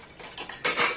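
Clean dishes and metal cutlery from a dishwasher clink and rattle as they are handled, a few quick close clatters over about a second.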